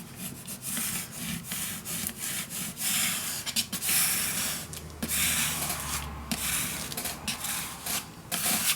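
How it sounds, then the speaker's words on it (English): A bit of string is rubbed firmly over paper laid on thin 1 mm chipboard, making repeated close, dry scratchy strokes in an uneven rhythm. "Just going to use a little string to do this, but okay, burnish it down."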